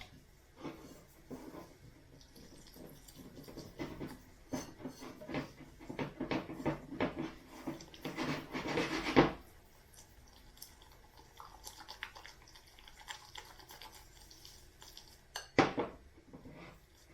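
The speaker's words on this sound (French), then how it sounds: "Et je mélange tout." Keto Castella cake batter being mixed in a bowl, with repeated utensil scrapes and clinks against the bowl, building to a busier burst of whisking before a quieter stretch and one last clink.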